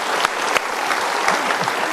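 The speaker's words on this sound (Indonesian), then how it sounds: "Sekali lagi kita berikan tepuk tangan." A studio audience claps warmly on the Indonesian talk show Mario Teguh Golden Ways, steady dense applause with a few sharper claps standing out, loud and close throughout.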